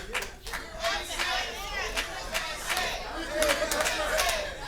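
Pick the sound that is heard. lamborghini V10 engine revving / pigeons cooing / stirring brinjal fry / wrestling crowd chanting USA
wrestling crowd chanting USA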